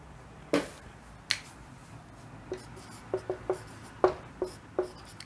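Chalk tapping and scratching on a classroom board during a class 10 maths lesson on arithmetic progressions: a string of sharp, separate clicks at uneven intervals against a quiet room.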